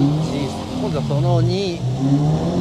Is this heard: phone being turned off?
no